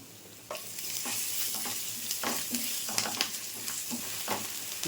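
Ginger garlic paste fries in a pan with salt and turmeric, a continuous close sizzle broken by repeated scraping stirs of the spoon, with no talking over it.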